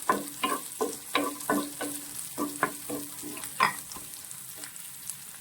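Chopped green chillies fry in a pan for chilli gobi. Stirring scrapes and taps come in a steady rhythm over a soft sizzle, all close and moderately loud, with no talking.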